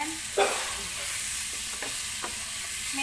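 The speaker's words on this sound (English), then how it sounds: "let's just cook these three vegetables because it should actually require time to cook" Potatoes, carrots and other vegetables stirred and frying in a pan for a vegetable biryani, a steady soft sizzle with a few sharp scrapes of the spoon against the pan, close and without speech.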